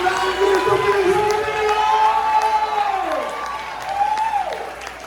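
Church congregation at a prophetic seminary consecration clapping and shouting for joy, a continuous loud wash of applause under sustained raised voices and sung or shouted tones that dip and swell.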